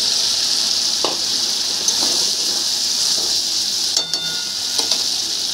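Masala fries in a pan with boiled peas, a constant bright sizzle with a few soft stirring clicks and one clank of a utensil near the end.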